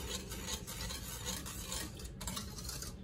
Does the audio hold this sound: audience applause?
no